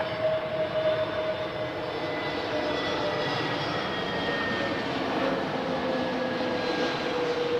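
An airplane touching down at Adelaide Airport, a steady loud jet engine roar with whining tones held throughout, no voices.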